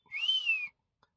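A voice imitates a police whistle with one long, loud rising-and-falling whistled note lasting over half a second, followed by a tiny click and silence.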